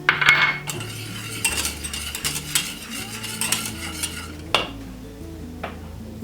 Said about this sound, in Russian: заваривать крем до густоты, постоянно помешивая, не отходя